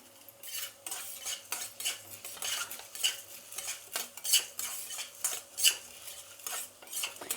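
A spoon keeps scraping and stirring in a pan as coriander seeds, cumin, pepper and fenugreek dry-roast. The strokes are steady and repeated, with light rattling of the seeds and an occasional metallic clink.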